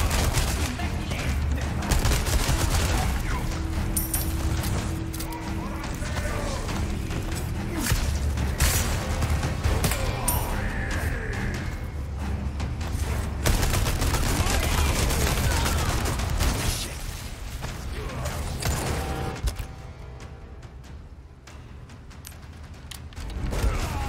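Gunfire and combat in the video game Resident Evil 4 Remake, with repeated shots, mechanical clatter and creaks over a dense, steady game soundscape, mixed with voices.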